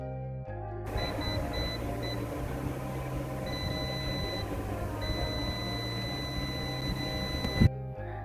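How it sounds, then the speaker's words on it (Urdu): A digital multimeter on continuity gives high, steady electronic beeps while a Samsung S10 5G phone board is traced, several short tones then two longer sustained ones, over a low background hum. "یہ دیکھیں یہ بیپ دے رہا ہے، مطلب دونوں طرف سے یہ بیپ دے رہا ہے"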